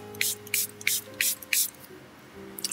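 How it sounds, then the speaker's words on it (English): Small spray bottle filled with Copic alcohol ink, used as a makeshift airbrush, gives five short, evenly spaced hissing bursts about a third of a second apart, close and fairly quiet over a low background hum. "I have put Copic various inks in little spray bottles like this."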